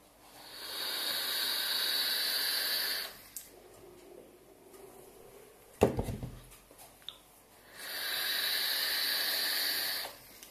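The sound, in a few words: vaping an electronic cigarette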